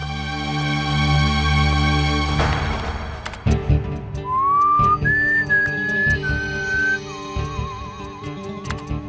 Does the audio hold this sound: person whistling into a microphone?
yes